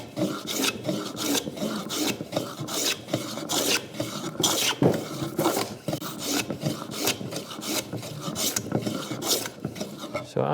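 An improvised scrub plane takes rough cut wood off a workbench board face in rapid, repeated rasping strokes, each a loud scraping burst, running steadily in a quick rhythm.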